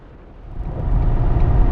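A Ford pickup truck labors up a hill southbound on the I-5 highway near Los Angeles, its low engine and road rumble swelling steadily louder from inside the cab. No speech.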